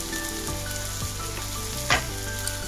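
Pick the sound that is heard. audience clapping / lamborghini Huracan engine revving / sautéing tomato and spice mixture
sautéing tomato and spice mixture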